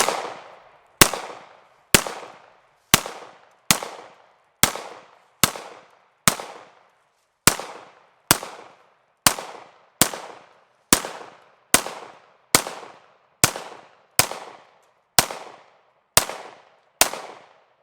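Twenty rounds fired from a 5.7 mm pistol at an outdoor range: sharp, loud individual shots at a steady pace of roughly one per second, each followed by a short decaying echo, with no talking.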